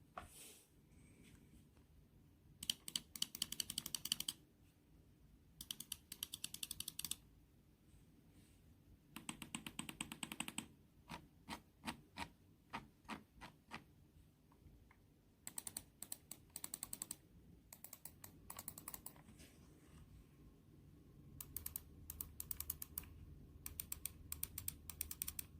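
Rapid bursts of crisp clicking from a Razer Viper Ultralight gaming mouse, fast clustered clicks in several runs separated by brief pauses, close up and quiet.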